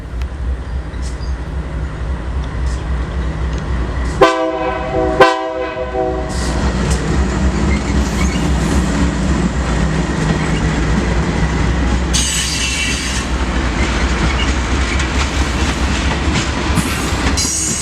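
A Union Pacific freight train rolls past with two sharp horn blasts early on, followed by a long steady rumble of wagons and wheel clatter, with a brief high squeal midway.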